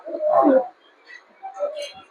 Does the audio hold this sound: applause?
no